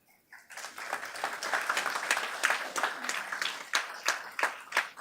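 Audience applause at a board of education meeting rises quickly into brisk group clapping, then thins toward the end into a few separate claps, fairly close and moderately loud.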